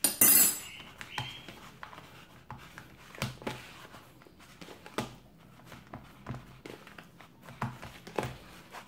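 A spoon stirs a two-ingredient snack mixture in a bowl, making irregular close scrapes and clinks, with a louder clatter near the start.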